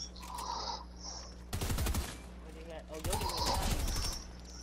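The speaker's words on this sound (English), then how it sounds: "Shoot, Nirvana, just shoot." Gunfire in a squad battle-royale shooter, two dense bursts of rapid shots with a quieter stretch between them, heard alongside chirping game ambience and occasional talk.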